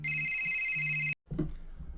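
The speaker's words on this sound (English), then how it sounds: "got a phone call." A telephone rings with a steady electronic trill for about a second, stops abruptly, then gives way to a softer rustle and a brief tone after the pause. Fairly close, no speech.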